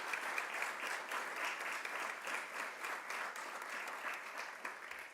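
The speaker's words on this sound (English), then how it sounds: "Can we have a round of applause, please, for the speakers?" Steady applause from an audience, a dense wash of many hands clapping continuously for several seconds with no talking.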